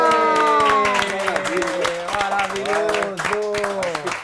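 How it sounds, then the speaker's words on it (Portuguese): An audience on a television talk show bursts into loud, continuous clapping and cheering. Voices shout over the steady roar of applause from start to finish. "uma salva de palmas!"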